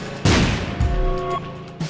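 A bomb blows up in The Binding of Isaac: Rebirth, one sharp loud blast followed by a short rumbling tail and a smaller thud near the end.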